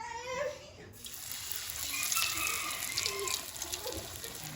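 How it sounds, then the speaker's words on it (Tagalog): Tap water runs into a kitchen sink while salted bitter melon is rinsed, a steady close splashing stream with uneven gushes as the vegetable is moved under it. "sa ampalaya natin para babad lang natin ng konti sa salt and then banlawan natin"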